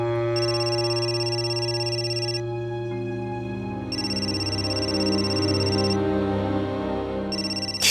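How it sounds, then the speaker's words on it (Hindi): A telephone rings with a steady electronic tone, repeating in bursts over a continuous musical background, loud and close. "ताई का फोन है।"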